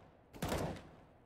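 A short burst of gunfire in Counter-Strike on the Mirage map, one sharp, fairly faint crack with a brief rattling tail over a quiet background.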